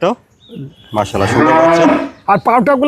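A Holstein Friesian heifer on a dairy farm moos loudly and long at close range, followed by a couple of shorter, rougher lowing calls.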